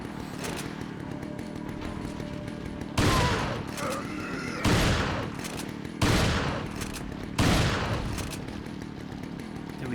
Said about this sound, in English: We can spare some shotgun ammo.